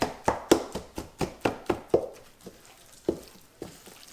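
Ground meat being mixed with taco seasoning, a run of rhythmic wet slaps and thuds, quick and regular at first, then slowing to a few scattered hits, close and fairly loud.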